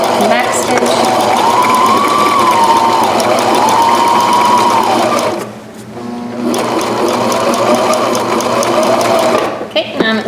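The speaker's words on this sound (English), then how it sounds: "I'm going to back stitch and put those stay stitches in there." A sewing machine runs in fast, steady bursts while back stitching stay stitches on pajama pants. The whirring drones loud and close, drops out briefly partway through, then starts again with a second run.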